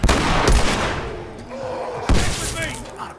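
Gunshots in The Last of Us during a fight with infected, two heavy booming blasts with long reverberant tails over a dense, noisy game soundscape.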